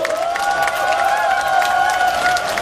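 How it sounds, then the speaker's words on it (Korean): Rally crowd applauding steadily for elderly women at a Daegu civic protest gathering, a dense continuous clatter of many hands over the full stretch, with faint tonal music or sustained voices running underneath. "시민 여러분, 뜨거운 박수로 격려해 주십시오"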